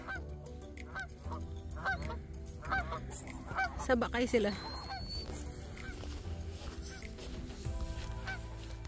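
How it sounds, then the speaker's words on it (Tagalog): Geese honk repeatedly nearby, a run of loud nasal calls clustering in the middle before trailing off, with people talking quietly in the background. "Gansa. Geese or goose? Gansa."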